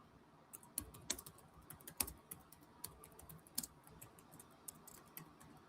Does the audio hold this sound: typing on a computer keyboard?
yes